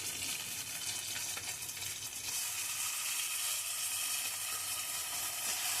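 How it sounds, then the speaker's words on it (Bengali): Taro leaves frying and being stirred in a pan with a dense, continuous hiss of sizzling that holds steady throughout, fairly faint and close, with no voices. "নাড়াচাড়া করে আমি এবার কচুর শাক থেকে দিয়ে দিচ্ছি"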